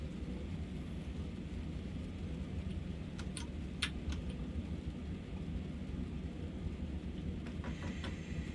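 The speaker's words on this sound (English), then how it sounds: "Storm continues to be problematic." Steady heavy rain pours in a Train Sim World storm on the Ruhr-Sieg Nord line, a dense constant rumble with a few sharp crackles and knocks scattered through it, no voices.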